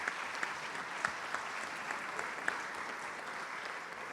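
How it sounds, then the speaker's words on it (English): An audience claps at an executive luncheon, a steady wash of moderate applause from a seated crowd, with a few sharper claps standing out and no one speaking. "Please give them a large round of applause."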